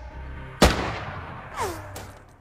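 One sharp, loud gunshot from a film's target-practice scene cracks out and echoes away, followed by a brief whooshing sweep and a softer second snap.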